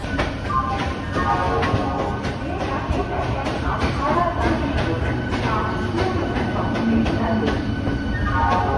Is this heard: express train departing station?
yes